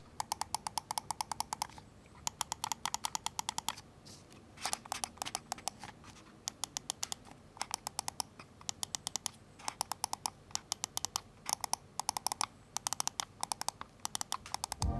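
Crisp, rapid clicking of Razer Viper V2 Pro mouse buttons in quick bursts with short pauses between, close and fairly quiet with no voices.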